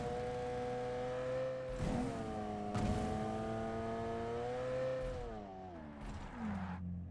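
A Lamborghini in PUBG Mobile drones and revs, pitch rising and dropping with gear shifts, a smooth continuous synthesized-sounding motor tone.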